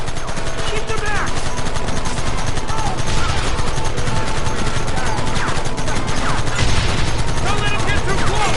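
A Red Dead Redemption shootout, with dense overlapping gunfire cracking rapidly and continuously, loud and close, while shouted voices break through the firing.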